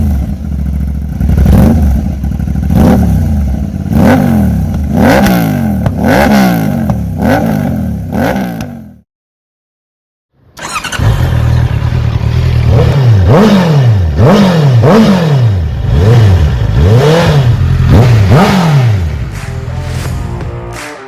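A 2025 Honda CBR650R and an Aprilia RS 660 revving in turn: loud, close engine blips rising and falling in repeated bursts, a brief silent gap between the two bikes, the second with a sharper, rattly note.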